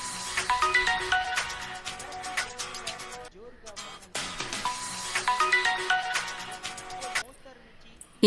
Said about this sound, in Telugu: ఏంటే ఫోన్ తీయట్లేదంట?